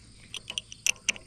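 A small wrench works a hydraulic hose fitting on a JCB Teleskid 3TS-8T skid steer, giving a handful of sharp, faint metallic clicks spaced irregularly over a quiet background.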